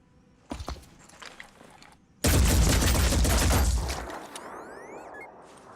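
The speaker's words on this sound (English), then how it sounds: "As you can see, our shot broke cleanly through the cover and some of the remaining bullets were also able to hit our target" A sniper rifle fires in the tactical video game Phoenix Point, punching through a building wall: a sharp early shot, then a loud, dense burst of impacts and gunfire that lasts about two seconds and fades into a lighter mechanical tail.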